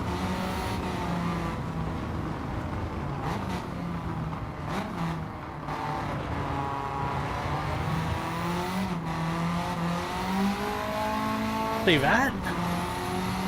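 Simulated race car engine in a driving game held constantly above 7,000 RPM, a steady high-pitched whine with brief dips at upshifts and a tire squeal near the end, with a voice talking over it.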